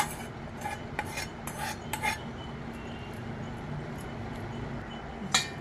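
Soft scraping and rubbing of a spoon mixing tempering into dry flattened rice in a bowl, with a few sharp clinks against the rim; no speech.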